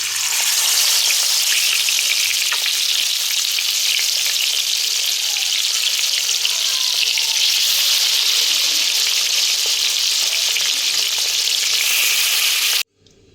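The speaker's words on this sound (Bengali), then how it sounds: "এবার মাছটা ভেজে নিচ্ছি।" Salted, turmeric-rubbed fish frying in mustard oil, a loud, steady, close sizzle and crackle that runs without a break before cutting off abruptly at the end.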